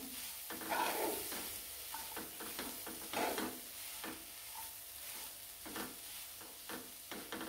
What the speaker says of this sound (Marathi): त्याच्यामध्ये नारळाचा 2 वाट्या किस घेतलेला आहे तो टाकून घ्यायचा. थोडासा परतून घ्यायचा.